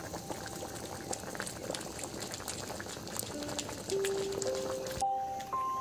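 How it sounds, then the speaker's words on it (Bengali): Bhoger khichuri bubbles vigorously in a pot, giving a continuous close-up stream of popping and gurgling. A few faint tonal notes rise near the end, and no one speaks. "টকবক টকবক করে ফুটছে একদম।"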